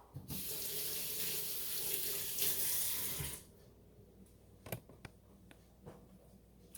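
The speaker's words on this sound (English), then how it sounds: "let me rinse my hand off" A kitchen faucet runs steadily while a hand is rinsed under it during corn dog prep, a close, full rush of water for about three seconds, then the tap shuts off, leaving faint drips and knocks.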